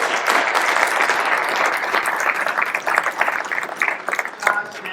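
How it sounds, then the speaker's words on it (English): Conference audience at Comms vNext 2023 gives a round of applause, a thick wash of many hands clapping steadily at moderate loudness, with no voices over it. "Let's give a round of applause to the organizers of this event"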